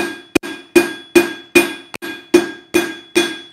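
Hammer blows on a hot steel bar while bevelling a hand-forged ladle at an anvil, eight sharp ringing strikes at a steady beat with a couple of lighter taps between them, loud and close, with no talk.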